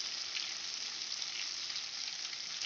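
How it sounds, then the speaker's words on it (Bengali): Rice sautés in a pan for katla fish head murighonto, a steady, even hiss of sizzling with no breaks, fairly soft and close. "চালটা দিয়ে আমি ভালো করে কষাতে থাকবো"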